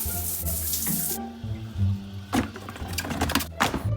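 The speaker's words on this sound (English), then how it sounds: "I gotta wash my Crocs." Tap water runs into a sink while a pair of Crocs is washed, a hissing stream up close that changes as the shoes move under it, with splashes and knocks and no talk.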